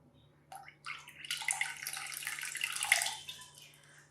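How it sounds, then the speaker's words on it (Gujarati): Water is poured steadily into a pan of rice for Gujarati dal-rice cooked in a pressure cooker: a close, continuous splashing gush that starts abruptly and keeps going for several seconds, with no talking. "2 વેડા પાણી આમાં એડ કરી દેવાનું"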